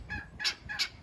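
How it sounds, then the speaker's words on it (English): Roosters on a homestead give two quick, close crowing calls in succession, loud and raspy over a quiet outdoor background. "Oh, I hear you, roosters."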